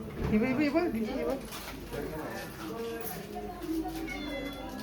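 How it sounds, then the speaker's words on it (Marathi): A cat meows a few times nearby, with people talking around it and soft birdlike cooing in the background. "आमची मांजर ती बघ."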